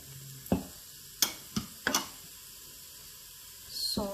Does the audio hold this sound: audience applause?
no